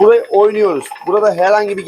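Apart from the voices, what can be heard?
None of the usual background noises is heard.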